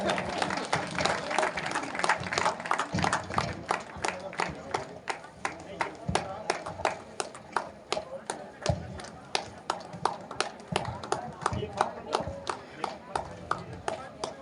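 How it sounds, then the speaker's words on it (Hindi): A crowd claps at a village panchayat oath ceremony where sarpanch Bhagwat Ram Patel and panch members take their oath, a loose, uneven patter of individual claps that goes on for a while with people talking over it. "जोरदार ताली बजाओ"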